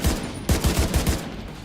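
Automatic rifle fire in the shooter game Tom Clancy's The Division 2, inside a Washington D.C. museum: loud, close bursts of rapid, evenly spaced shots, about half a dozen cracks with a brief pause between bursts.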